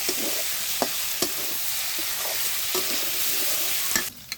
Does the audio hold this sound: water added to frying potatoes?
yes